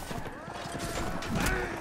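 A horse gallops in the medieval combat game Mount & Blade, with rhythmic hoofbeats and thuds amid battle noise, while someone talks over it.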